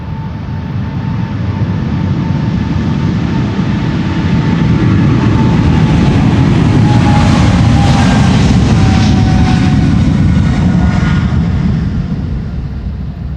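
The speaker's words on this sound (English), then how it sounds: "This is the PHBVD. It used to be the SkyTeam liveried 777." A KLM Boeing 777 in standard livery roars down Polderbaan runway 36L at Schiphol on takeoff, a loud, sustained broadband jet rumble with a rising whine that swells toward the middle and holds strong throughout.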